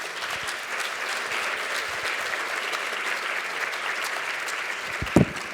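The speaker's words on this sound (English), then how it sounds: "So how about a round of applause for them?" Audience applause at a community event on organ donation, steady sustained clapping from a crowd throughout, fairly even in level with a sharper clap or thump near the end.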